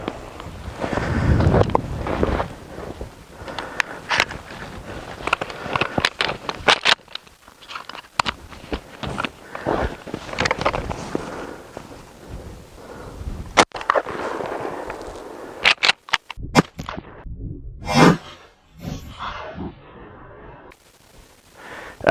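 A Mossberg 500 SPX pump shotgun fires Challenger 9-pellet buckshot outdoors: a few sharp blasts stand out amid heavy, constant wind buffeting on the microphone, plus scattered handling clatter.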